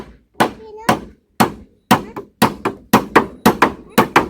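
Hammer blows while people lay a floor in an extension at the front of a house, about a dozen loud sharp whacks in an uneven rhythm, close by, speeding up toward the end with short pauses between them.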